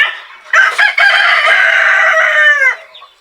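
Plymouth Rock and Rhode Island Red chickens on a farm: a rooster gives one loud, close crow lasting about two seconds, with a few short clucks just before it.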